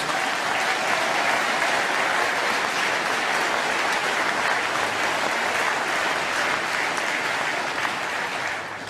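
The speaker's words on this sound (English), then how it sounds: "Please give them a round of applause." Dense, steady applause from a large audience at the 2015 UKIP party conference, loud and close, sustained for the whole stretch and tapering slightly at the very end.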